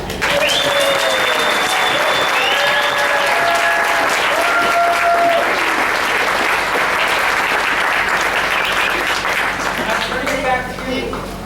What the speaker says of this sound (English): let's give the biggest round of applause ever to Paul.